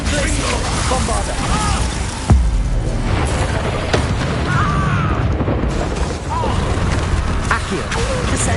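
Magic spells being cast in the Hogwarts Legacy video game, including explosive Confringo and Bombarda blasts: a dense, loud battle mix with a booming impact near the start, scattered bursts and pops, and a voice calling out through the fight.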